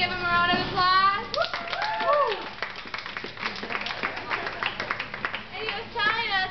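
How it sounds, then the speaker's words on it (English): Clapping and applause break out at a Hooters restaurant for a man's 21st birthday, a scattered round of hands mixed with lively voices and cheering across the room. "Can we give him a round of applause?"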